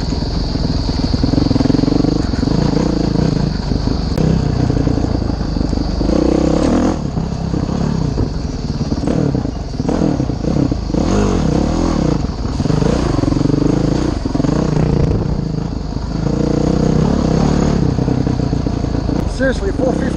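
Modded 2011 Honda CRF 450X dirt bike ridden on a tight trail, its single-cylinder engine revving and surging continuously up close with clatter and scraping, while a rider's voice talks over it at times.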